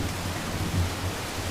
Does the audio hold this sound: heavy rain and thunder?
yes